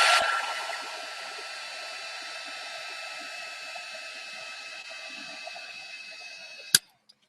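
A hair dryer drying paint on an art journal page gives a steady, close whooshing hum that runs for several seconds, then cuts off with a short click near the end.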